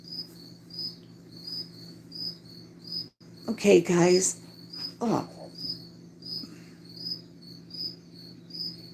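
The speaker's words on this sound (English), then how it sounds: "Glad you love the crickets too." Crickets chirp in a steady, evenly spaced pulsing rhythm that runs through the whole stretch, continuing beneath a person who speaks briefly near the middle.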